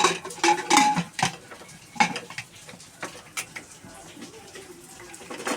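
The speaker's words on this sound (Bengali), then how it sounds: "এখন আমার প্রেশার কুকারের ঢাকনাটা লাগিয়ে দেবে" Metal clatter and clinks of a cooker lid being fitted and closed on a pot, a few sharp knocks followed by quieter scraping and rattling.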